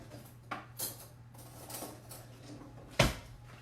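A spoon is picked up from among pots and utensils while cooking chicken pot pie in a home kitchen, giving a few scattered metallic clinks and clatters close by, with one sharp clank near the end.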